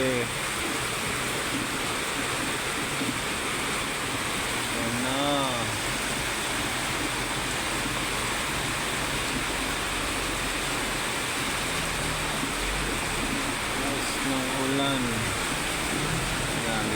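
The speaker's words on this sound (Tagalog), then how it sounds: "ang lakas ng ulan mga pre" Heavy rain pours down steadily on a street beside a convenience store, a dense unbroken roar lasting the whole stretch, with a few faint chirps and brief vehicle sounds poking through.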